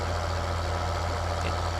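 A tractor idles in Farming Simulator 2013, a steady low engine drone with a fine regular pulse, unchanging and alone for a brief stretch.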